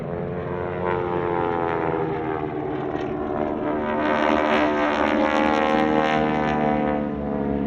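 A four-ship formation of warbird propeller aircraft passes overhead at an airshow, a loud sustained multi-engine drone with layered prop harmonics that swells as the planes draw nearer, with no talk over it.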